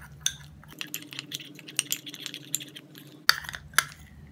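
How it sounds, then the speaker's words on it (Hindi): Ragi flour face-remedy paste being stirred in a bowl: light scattered clinks and scraping taps of a spoon against the vessel, faint and irregular, with a soft background hum. "इन सब चीज़ों को मिक्स करेंगे।"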